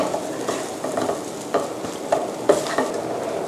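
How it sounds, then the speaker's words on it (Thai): Nam prik jaew bong, a Thai chili paste, being stir-fried in a pan until darker and dry: close, repeated scraping stir strokes over a steady low sizzle, with no talking. "ก็เอาผัดสักประมาณนี้นะคะพอสีมันเข้มขึ้นแล้วก็แห้ง"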